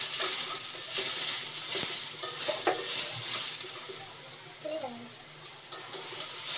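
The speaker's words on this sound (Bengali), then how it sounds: "এভাবে আমরা পেঁয়াজটাকে ব্রাউন করে ভেজে নিব।" Onions frying in oil in a pan for a chicken curry, a steady bright sizzle with scraping stirs and occasional utensil clinks against the pan, moderately quiet.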